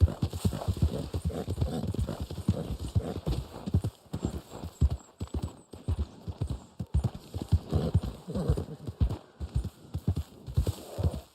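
Rhythmic clip-clop of horse hooves during riding in the video game Red Dead Online, a steady galloping beat with an occasional whinny, moderately close and clear.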